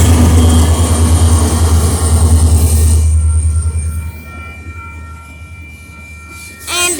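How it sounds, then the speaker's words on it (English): A Union Pacific freight train passes a railroad crossing, its loud rumble and rolling wheels fading partway through as a bright horn-like tone rises near the end. "And that train, that's how I know that train just started."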